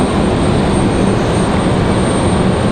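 An airliner at Raleigh-Durham International Airport gives a loud, steady engine roar with no pauses, close by and unbroken by speech.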